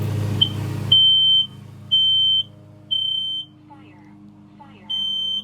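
A smoke and carbon monoxide alarm kept boxed for years sounds its fire test pattern: loud, piercing half-second beeps repeating about once a second, close by, with a brief burst of noise just before the first beep.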